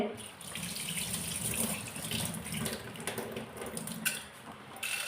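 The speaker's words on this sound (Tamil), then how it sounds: "நான் ஒரு 2 கைப்பிடி துவரம் பருப்பு எடுத்துருக்குறேன். அதை நல்லா வாஷ் பண்ணிக்கிறேன்." Toor dal (pigeon peas) rinsed by hand under a running kitchen tap, a steady close splash of water streaming into a sink with light swishing throughout, no talking.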